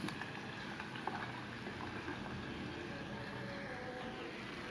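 A pot of garlic and ghee comes to a boil, giving a soft, steady bubbling hiss that stays faint and even throughout, with no voices over it.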